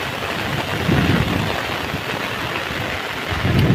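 Heavy monsoon downpour in the Konkan region, a dense, steady roar of rain with no breaks, loud and close throughout with slight swells in intensity and no talking.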